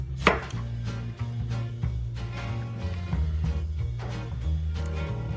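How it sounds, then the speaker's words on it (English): A knife chopping a small half onion on a cutting board, a quick run of close, rhythmic thuds with crisp slicing crunches, steady and fairly loud, no talk. "And I'll finally chop a small half of an onion too."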